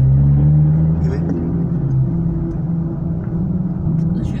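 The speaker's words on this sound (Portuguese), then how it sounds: "O barulhinho da ponte, ó." A car drives over a bridge on a country road, giving a steady low rumble with a droning hum that lasts throughout, close and loud.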